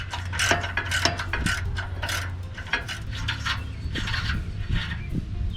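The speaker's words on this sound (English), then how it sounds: "These ones you got to do by hand with a ratchet." A hand ratchet loosening exhaust nuts under a foxbody Ford Mustang GT 5.0L during a Flowmaster exhaust install, rapid repeated clicking bursts, close and fairly loud, with metallic clinks between strokes.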